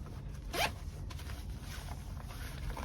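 A zipper on a Three Pigeons tactical range bag is pulled in one quick, close rasping stroke, with faint handling noise before and after, no voices present.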